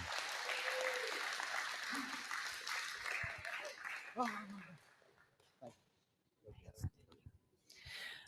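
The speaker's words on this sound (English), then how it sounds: "let's go ahead and get a nice round of applause for Lisa and bring her on up." A round of audience applause at a recovery meeting held inside a jail, loud and dense at first, then thinning and dying away into scattered claps and quiet, with a voice briefly audible near the end.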